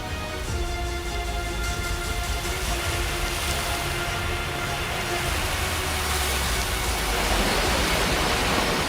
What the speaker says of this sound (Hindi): कहीं झरना आउट ऑफ कंट्रोल हो चुका है।